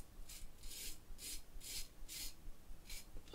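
Mühle R41 open comb safety razor scraping through stubble in about six short raspy strokes, close and faint against a soft background hiss, no talking.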